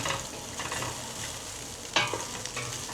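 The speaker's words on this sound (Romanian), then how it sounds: "S-o prăjit carnea un picuț" Meat frying in a little oil for goulash, cooked outdoors at a truck parking lot, sizzles steadily and loudly while a utensil stirs and scrapes through it, with one sharper clatter near the end.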